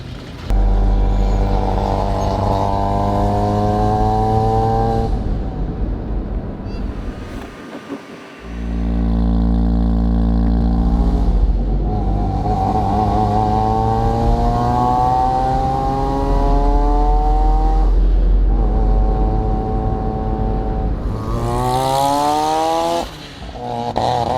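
A two-rotor rotary engine in a Corvette with an exhaust leak revs loudly and raggedly, climbing and falling in pitch, dipping briefly to a lower drone before surging again.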